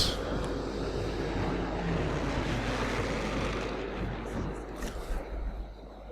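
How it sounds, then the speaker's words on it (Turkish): Aircraft engines drone steadily overhead, loud and continuous, as planes fly over in the World War II shooter game Sniper Elite 3. "Hadi uçaklar."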